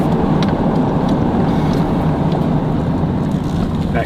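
A little red SUV passes by outdoors, a steady broadband road and engine rumble holding at constant loudness throughout, with no talk.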